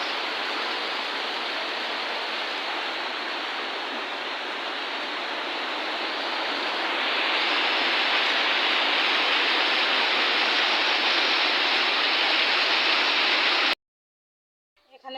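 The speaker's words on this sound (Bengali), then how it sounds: "বেশ ভালো বৃষ্টি হচ্ছে এখানে" Heavy rain pours outdoors as a dense, steady roar that grows louder midway, then cuts out abruptly near the end.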